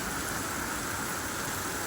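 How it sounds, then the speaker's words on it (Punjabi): Intense rain hammers down outside a doorway in farm country, a loud, thick, constant roar of drops hitting the ground and nearby surfaces, close and uninterrupted, with no talking. "ਆਹ ਦੇਖੋ ਤੁਸੀਂ ਕਿੰਨਾ ਤੇਜ਼ ਹੋ ਗਿਆ ਮੀਂਹ ਦੁਆਰੇ"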